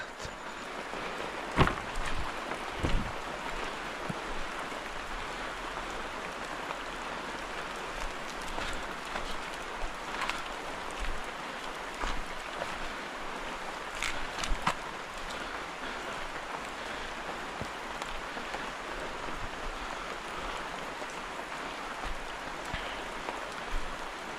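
Monsoon rain falls over a village plantation as a soft, steady hiss lasting the whole stretch, with a few faint knocks and drips breaking through now and then.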